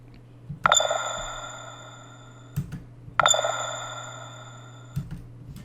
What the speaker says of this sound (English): a deeper pluck followed by a glitchy pluck with some added reverb